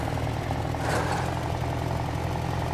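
A vehicle engine in a survival video game hums at a steady low drone while driving, continuous and moderately loud with a slight swell in the middle, no voices over it.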